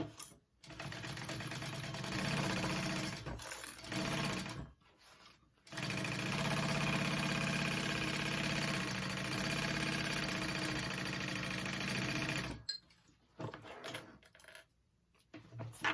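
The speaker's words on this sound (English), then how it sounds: "I'm gonna sew this and show you real quick how it lines up" A sewing machine stitching a tote bag seam runs in two long steady whirring stretches with brief pauses between, close and loud, with no talking.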